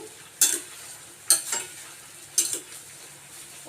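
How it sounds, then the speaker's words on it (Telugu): A spatula stirs gongura chutney frying in a pan, making three separate scraping clinks against the metal, each spaced about a second apart over a quiet, faint sizzle. "ఒకసారి మధ్య మధ్యలో ఇలా కలుపుతూ ఉంటే అంటే సమంగా మనకి ఫ్రై అవుతుంది"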